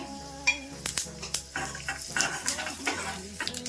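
Cumin seeds roasting in ghee in a pan, a close crackling sizzle with stirring scrapes and sharp metal clinks of a spoon against the pan, no speech.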